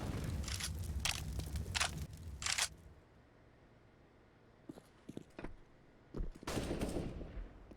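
Gunfire during a competitive Counter-Strike match: bursts of sharp close shots, a quieter stretch with scattered distant cracks and footsteps, then more loud shots.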